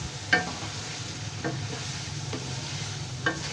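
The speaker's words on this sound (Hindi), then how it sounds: "चिकन को हम अच्छी तरह इसके मसाले को भूनेंगे" Chicken pieces frying with spices in a pan for a white chicken biryani. The faint, steady sizzle carries a few sharp stirring scrapes that stand out over a low background hum.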